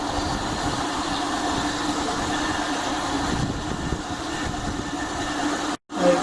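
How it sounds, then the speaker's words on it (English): Steady mechanical whirring and rumbling of an electric motor driving a gearbox mechanism, continuous and fairly loud, with a brief cut near the end. "Here we are using this electrical motor to drive the whole mechanism."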